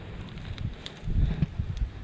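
Strong outdoor wind gusts buffet the microphone in uneven, rumbling bursts that grow louder midway, with light rustling in between.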